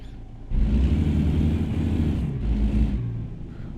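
A Kenworth W900 truck engine in American Truck Simulator rumbles low, then jumps louder as it revs and pulls away, holding a steady drone with a brief dip near the end; no talk.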